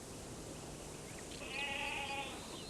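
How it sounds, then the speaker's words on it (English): Wild mountain goats, ibex on high bare cliffs, give a faint bleat through a soft, airy outdoor background, a brief, distant, wavering call rising in the middle and fading again. "these wild mountain goats, the ibex, make their home on the highest cliffs"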